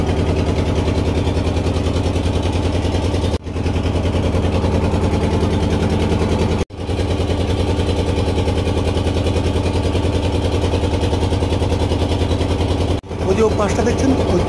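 A motor boat's engine drones steadily and loudly at a low pitch as the boat pulls away on a Sundarbans waterway bound for Sajnekhali, nearly unbroken apart from a couple of brief dropouts, with faint background voices.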